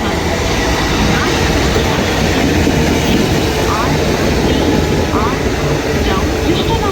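Train pulling into a platform at Ranaghat Junction at night, a loud steady rumble of wheels and engine filling the station with continuous noise, with voices present in the background.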